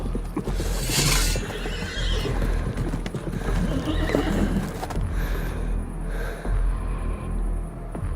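Several horses neigh and whinny with galloping clip-clop hooves as four armed horsemen close in, loud and close, with a sharp whinny near the start and hoofbeats and snorts continuing throughout.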